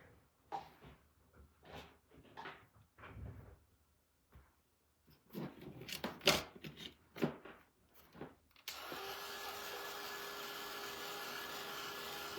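Heat tool drying paint on a craft project, switching on partway through with a steady loud whirring blow that continues to the end, after a stretch of quieter handling noises.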